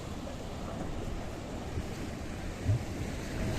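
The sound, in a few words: sea water washing up against small piers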